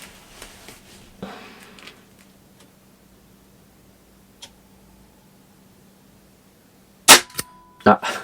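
An air rifle fires a pellet at a target 30 metres away, giving a sharp, loud crack followed by a second quick report near the end, with quiet handling clicks earlier on.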